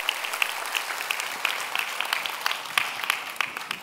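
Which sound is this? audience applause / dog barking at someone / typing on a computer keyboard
audience applause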